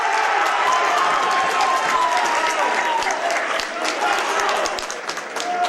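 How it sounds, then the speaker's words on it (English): The home crowd at a men's college basketball game between Central Maine CC and PSU Fayette claps and cheers in a loud, sustained wash of noise. A commentator speaks over it, and sneaker squeaks come through now and then. "And that gets the home crowd fired up."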